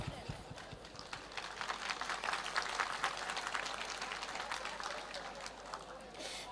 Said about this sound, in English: a great proud of applause for the teachers who are working for the